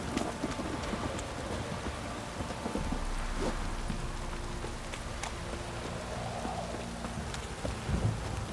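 Steady rain in the video game The Witcher 3: Wild Hunt pours down in a dense, continuous patter, with a few hollow clopping knocks mixed in and no voices.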